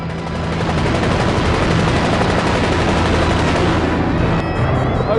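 Sustained loud burst of gunfire from an army helicopter during live-fire shooting practice, a dense continuous roar lasting several seconds with no speech over it.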